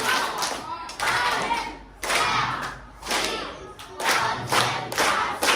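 A classroom of students claps a patterned concentration rhythm in a school lesson, bursts of group clapping alternating with short pauses in repeated phrases.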